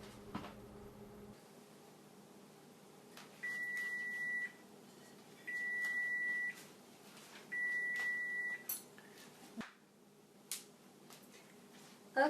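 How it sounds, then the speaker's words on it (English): A kitchen timer beeps in three separate short bursts of rapid high-pitched tones spaced about two seconds apart, faint against a quiet kitchen background with no speech. "the alarm is going off now"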